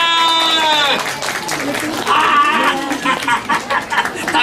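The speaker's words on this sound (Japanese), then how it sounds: "みんなで拍手" An audience at a Tokyo DisneySea stage show, the Mr. Potato Head show, breaks into a dense wash of clapping that follows and runs beneath an amplified character voice speaking.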